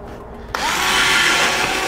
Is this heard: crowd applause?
no